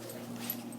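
A puppy gives a soft, brief whimper, faint and close, over a quiet low hum, lasting under a second.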